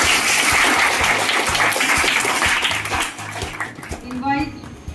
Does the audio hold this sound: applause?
yes